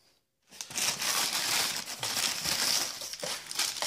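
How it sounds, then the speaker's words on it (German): Packing paper crinkles and rustles close to the microphone as a parcel holding a replacement central locking pump for an Audi 80 Coupe is unwrapped, starting after a brief silence and continuing in dense crackly bursts. "Wir packen das jetzt mal aus."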